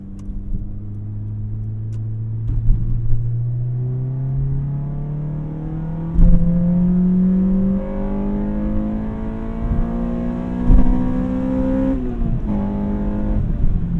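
A 2006 Acura RSX Type S accelerating in third gear, its engine note climbing steadily in pitch as revs rise, loud and close from inside the car, with a brief dip near the end.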